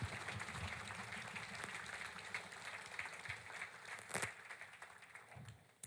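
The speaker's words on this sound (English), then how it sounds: "Can we give him another round of applause?" Faint, steady applause from a book launch audience, a dense wash of hand claps held at an even level throughout, heard from a distance and tapering off at the end.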